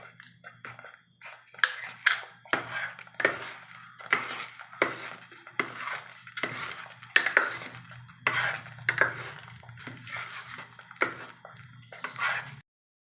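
Spoon scraping and knocking against a pan while banana halwa with cardamom powder is stirred over heat, giving a steady run of rhythmic metallic strokes with a low hum underneath.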